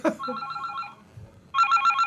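A telephone rings indoors with two bursts of a trilling electronic ring separated by a short pause, fairly clear and close.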